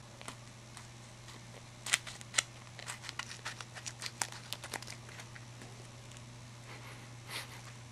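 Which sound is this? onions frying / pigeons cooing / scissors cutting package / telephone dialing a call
scissors cutting package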